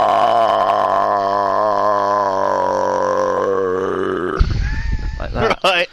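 A voice imitates a huge, drawn-out belch, a single long guttural drone that holds steady for several seconds before breaking into rough gurgling sputters at the end.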